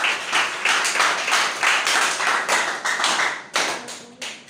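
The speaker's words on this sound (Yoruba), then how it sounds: "Clap Jesus Christ." A church congregation claps rhythmically for Jesus, heard as steady, loud, closely massed hand claps in a regular beat lasting throughout, with no talking over them.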